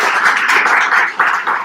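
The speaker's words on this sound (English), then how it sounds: "A big round of applause for them." An audience at a Rotary youth exchange seminar gives exchange students a short, loud, close burst of applause.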